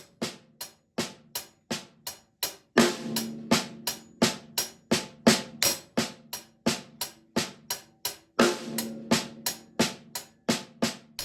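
Triple paradiddle drum rudiment played on a kit with accented hi-hat and snare, a steady stream of crisp even strokes with regular louder accents, close and alone.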